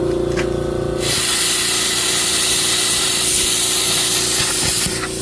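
A Koreana plasma cutter slices a circle out of 3.2 mm steel plate, a steady loud hiss and roar with a constant electrical hum running throughout, starting abruptly after a second and continuing unbroken to the end.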